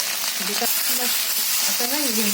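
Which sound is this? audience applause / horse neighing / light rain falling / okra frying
okra frying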